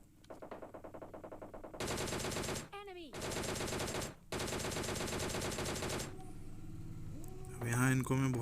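Automatic weapon fire in PUBG Mobile Lite rattles in long, dense bursts, loud and near, with short gaps between them, while a voice talks over the shooting.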